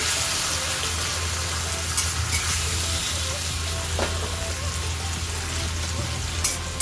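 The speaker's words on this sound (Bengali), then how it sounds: "আর গোটা গরম মশলা, আদা আর টমেটোর একটা পেস্ট বানিয়ে নিয়েছি, সেটাও তেলের মধ্যে দিয়ে দিলাম" A ginger, tomato and whole garam masala paste frying in hot oil for a fish-head cabbage dish, a continuous loud sizzle with occasional sharp scraping stirs and a low hum beneath.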